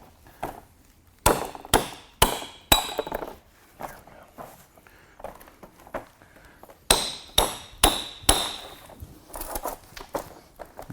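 Hammer blows strike metal while sway bar parts go onto a Volkswagen MKVII GTI in a garage: sharp ringing clangs in quick bursts of three or four, separated by pauses, loud and close.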